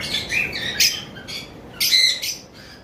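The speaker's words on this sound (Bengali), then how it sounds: "এটা একটা ফিমেল পাখি।" A female blue-wing opaline lovebird with a clear head gives a few sharp, high chirps in short bursts, close and fairly loud against a quiet background.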